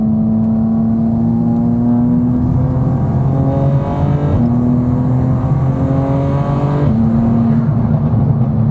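A BMW M4/M3 inline-six engine holds a steady, raspy drone with rising harmonic sweeps as it revs, easing back and climbing again several times, loud and close.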